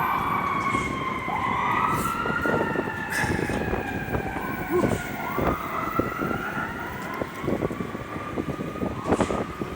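An ambulance siren wails on a snowy Toronto street, its rising and falling tones sweeping loud and close over the rumble of traffic, with no talk.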